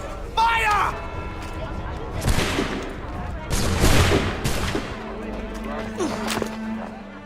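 Gunfire crackles in Assassin's Creed 3 Remastered after a shouted order to fire, a few loud broadband bursts of shots with voices and battle noise around them.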